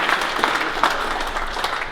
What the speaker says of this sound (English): please give them a round of applause for providing some of the wines